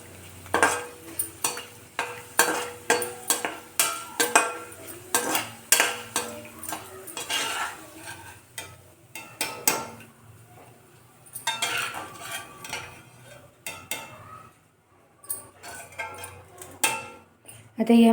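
Cut figs being lightly heated and stirred in ghee in a pan, with a spoon clinking and scraping against the metal at a steady, repeated pace, close up, and a voice talking over part of it.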